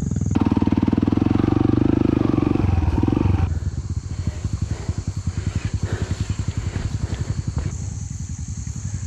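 Cross-country motorcycle engine revving loudly at first, then dropping to a rapid rhythmic idle-like putter that runs on steadily, close up with no talk.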